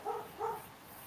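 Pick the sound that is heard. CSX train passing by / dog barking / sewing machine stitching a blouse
dog barking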